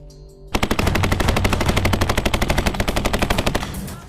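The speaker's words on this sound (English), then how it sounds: "candidates must prove their grit under the added stress of simulated gunfire and smoke grenades" Simulated gunfire during a U.S. Navy SWCC military training exercise: a long, rapid automatic burst of evenly spaced shots, loud and close, starting abruptly after a brief quiet lead-in.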